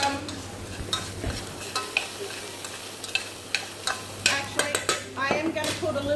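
Onions frying in oil in a pan for beef stroganoff, a close steady sizzle with a run of sharp utensil clicks and scrapes against the pan, growing busier toward the end.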